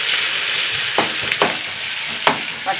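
Garlic, green chili and curry leaves sizzle and crackle in hot oil for a pickle, with a constant fry hiss broken by a few sharp spattering pops and stirring scrapes.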